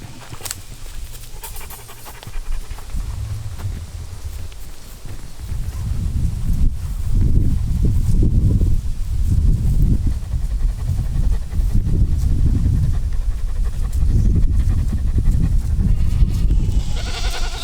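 Goats and Anatolian shepherd dogs pant and bleat in the low range on a farm in summer, with a steady outdoor background that grows busier partway through. No one speaks.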